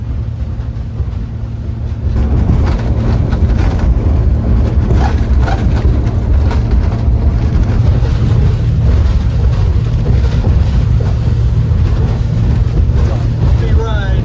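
Small boat crossing Biscayne Bay in wind, a loud steady engine drone with rushing water and hull thumps from bumping over chop, plus heavy wind buffeting on the microphone.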